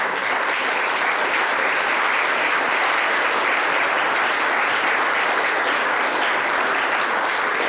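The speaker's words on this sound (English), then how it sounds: "A round of applause for everybody that came" Audience applause at a Wallsburg, Utah town hall meeting in Wasatch County, dense and sustained clapping from the crowd at a steady loud level for the full stretch.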